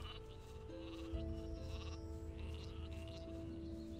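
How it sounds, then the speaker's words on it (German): Sheep bleat in the video game Gothic 2: repeated drawn-out, wavering bleats from several animals overlap steadily for the full stretch, set against a constant busy outdoor game ambience. "Die Schafe, wie die am Jumpen sind."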